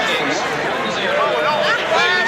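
A racecourse crowd at the 2012 Champion Stakes cheers and congratulates the winning horse's trainer and connections, with lively babble, shouts and whistles close by under an excited commentator's voice.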